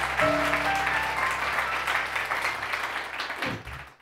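An audience applauds a pianist with a steady, moderately loud burst of clapping that tapers off after a few seconds, while a piano chord sustains and fades underneath.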